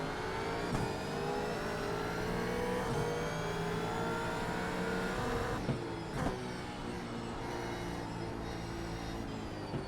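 Supercar engine in a racing video game, a loud steady revving drone as the car launches off the start, sustained and close with no talk over it.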